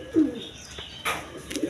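A pair of Gola pigeons coo close by: a few soft, low, throaty coos spaced apart with brief pauses, alone without talk.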